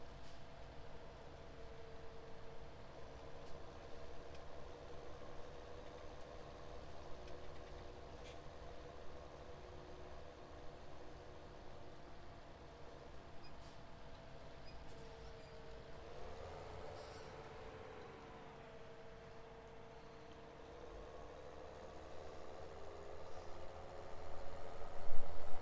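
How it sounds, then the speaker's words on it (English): Tractor engine running in the video game Farming Simulator 2017, a steady, low, continuous drone that holds without a break for the whole stretch and swells slightly near the end. "when the tractor's near it, I can just look back and make sure I've got all the grass"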